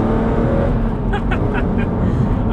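BMW Z4 M Roadster with a naturally aspirated engine, a loud, raspy, metallic engine roar that holds steady and close throughout, with faint higher squeaks in the middle.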